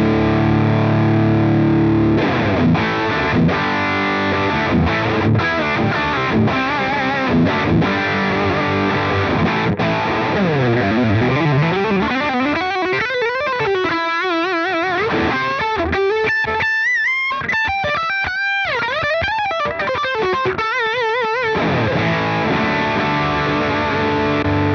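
Heavily distorted old-school metal electric guitar through a Victory V4 amp pedal, loud and continuous, with chugging palm-muted riffs and rapid picked runs and bends, played alone.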